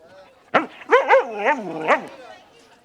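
A dog gives a sharp bark followed by a run of whiny, yelping vocalizations at a film festival press event on the blue carpet, close and fairly loud, with no talk over it.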